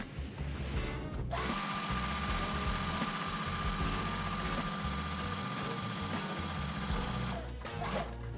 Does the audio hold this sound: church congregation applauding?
no